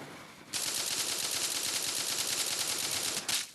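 Rapid automatic gunfire in a CS:GO-style first-person shooter game, one loud continuous burst of about three seconds with a brief extra burst near the end, with no talking.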